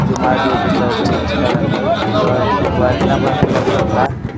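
A dense, loud crowd roar fills a palanquin procession gathering, steady babble and movement noise with no pauses, voices blending into a continuous wash.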